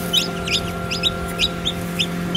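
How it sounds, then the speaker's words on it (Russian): Newly hatched chicks in an 'Ideal Hen' home incubator peep in quick high chirps that come in repeated bursts over a steady mechanical hum. "Вот у нас цыплята."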